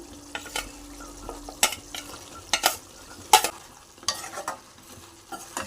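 Chopped okra going into mutton in a pot and being stirred, a low simmering sizzle broken by sharp clinks and scrapes of the spoon at irregular intervals, close and clear without talk.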